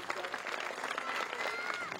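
A concert audience claps steadily in dense, sustained applause filling the room, with a voice speaking over it.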